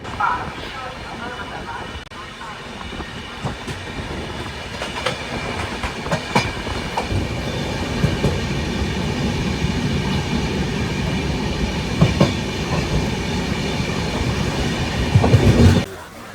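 A Kumbh Mela train from Ahmedabad to Prayagraj rumbles steadily along the rails near Vadodara's Chhayapuri station, with rhythmic clacking and occasional sharp metallic clanks, continuous and fairly loud, with faint voices underneath.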